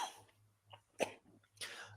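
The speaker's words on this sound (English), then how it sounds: "you're allowed to cough on the show" During a podcast interview, a person coughs several times in short, sharp bursts close to the microphone, separated by brief quiet gaps, with no other talking.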